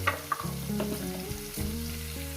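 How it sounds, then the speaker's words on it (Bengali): Food sizzling in a pan on a home stove during a meal of fried rice and chicken curry, a close, steady crackling fry with a few sharper pops, no talking. "ছ সাত মিনিট ধরে আমি এটাকে সুন্দর করে ভেজে নেব"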